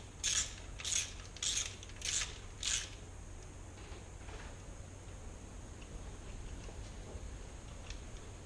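A ratchet doing up bolts on a Golf R32 engine gives five evenly spaced bursts of close, crisp clicking, followed by quiet background hum.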